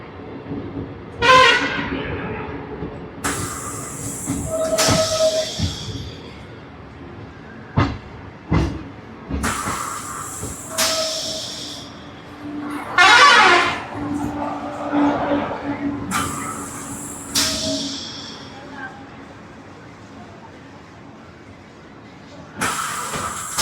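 The 12666 Kanyakumari–Howrah superfast express pulls into a station, its horn sounding in several long blasts amid steady rumbling and hiss, with a voice speaking now and then.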